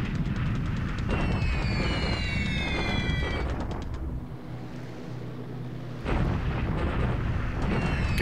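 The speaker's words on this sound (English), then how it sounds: "A lot of bombing in Cebu." Bombing explosions in the War in the Pacific wargame rumble heavily and continuously, briefly easing to a lower drone partway through before the blasts swell again.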